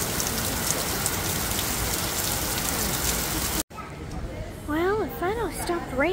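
Steady, loud rain pours down on a gloomy day in Genoa, Italy, filling the first few seconds before cutting off abruptly; afterward quieter street ambience follows, with a voice rising over it.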